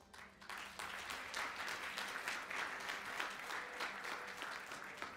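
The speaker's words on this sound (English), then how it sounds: "So a round of applause." Audience applause at a Day of the Seafarer event, a sustained bed of clapping that swells quickly and continues steadily at moderate volume through the end.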